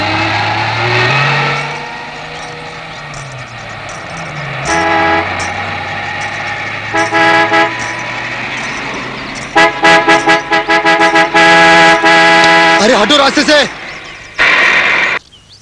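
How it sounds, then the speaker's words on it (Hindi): Repeated car horn blasts, loud and close, some long and some in rapid short bursts, mixed with engine noise and a voice. "इतनी देर से हॉर्न बजा रहा हूं"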